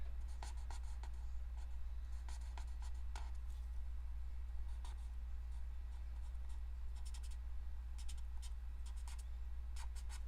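Steady, soft scratchy strokes of hand coloring on cardstock for cardmaking, close and quiet, with a low constant hum underneath and brief faint pauses between the strokes.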